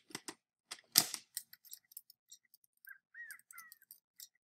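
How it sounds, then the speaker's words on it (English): A bird's call in the Roblox game Bird Simulator, a few short rising-and-falling squawks that follow a burst of sharp clicking sounds, fairly faint and heard without any talking. "this bird's sound is ugly."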